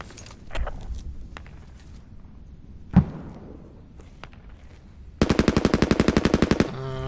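A rapid burst of machine gun fire in the Squad infantry video game rattles out in a long, even string of shots after scattered thumps and a single louder bang.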